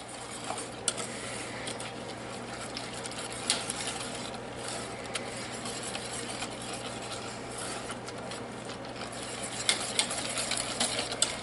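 Pecans and coconut being stirred into warm German chocolate cake filling in a pot off the heat, with steady soft scraping and occasional clicks of a spoon against the pan over a low background hum.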